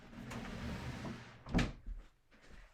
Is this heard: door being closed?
yes